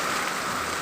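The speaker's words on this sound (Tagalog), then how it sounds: "Ang ulan uy." Rain pours steadily in a continuous, even hiss of drops hitting surfaces during a heavy downpour, loud and close throughout with no talk.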